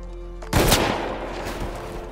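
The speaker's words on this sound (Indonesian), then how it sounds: "tiba-tiba ia ditembak oleh anak buah Widow tetapi masih hidup" A sudden burst of gunfire rings out in an action scene from a Mission Impossible film, one sharp loud report followed by a lingering rumble and a few softer shots.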